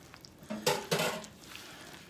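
Cake ingredients are mixed in a bowl, a utensil scraping and clinking against the side in a couple of brief, close strokes, with quiet pauses around them.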